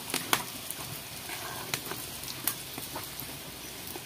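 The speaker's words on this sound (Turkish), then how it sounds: "Bakın böyle kızartacağız." Pieces of dough frying in hot oil, giving a soft continuous sizzle with scattered small pops and crackles, fairly quiet and steady with no talking.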